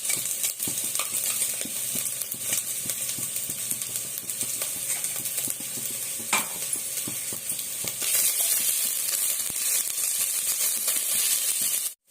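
Ginger garlic paste frying in hot oil with onions and green chilies for chicken biryani: a steady sizzle and hiss with occasional scrapes of a utensil against the pan, no talking.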